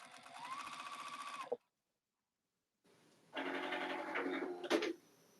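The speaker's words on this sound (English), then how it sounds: "Then I get to flip it over and sew it down." Sewing machine stitching down quilt binding: a fast, steady mechanical whir for about a second and a half, a pause of silence, then a second louder run of stitching with a brief clack near its end.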